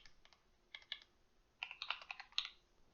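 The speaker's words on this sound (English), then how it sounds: "Now in the same window again, we're going to type falling lateral" Computer keyboard typing in bursts of quick keystrokes, a few clicks then a denser run of taps, close and clear with no talking.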